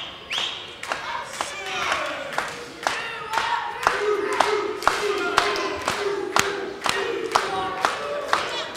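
A wrestling crowd at an All American bout rallies behind Choo-Choo with rhythmic clapping and stomping and loud, chant-like shouting, while a commentator talks over the arena noise.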